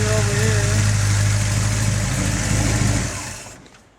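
A 1967 Chevelle SS 396 V8 with a four-speed and aluminum heads idles steadily and loud up close, a deep even rumble that fades away near the end.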